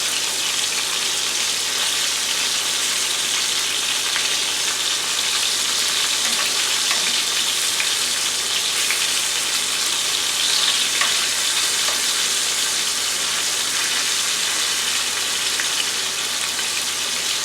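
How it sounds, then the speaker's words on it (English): Shrimp and scallops fry in hot oil while being turned over, a dense continuous sizzle with faint clinks, steady and close with no voices. "I'm going to turn these shrimp and scallops over."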